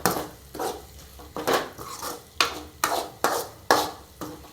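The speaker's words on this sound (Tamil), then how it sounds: "இப்போ முட்டையை உடச்சி ஊற்றியாச்சு இதை நல்லா வறுத்துக்கலாம் வறுத்து பொறிச்சிக்கலாம்" Egg being stirred and fried in a pan with onion and tomato for an egg rasam, heard as repeated sharp scrapes and clinks of a utensil against the pan, about eight strokes in steady rhythm, close and fairly loud, with a faint sizzle underneath.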